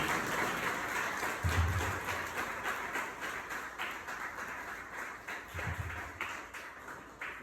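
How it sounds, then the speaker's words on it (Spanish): A church congregation claps together in a sustained, fairly even wash of applause that carries on for several seconds in a reverberant hall. "Den un aplauso al Señor."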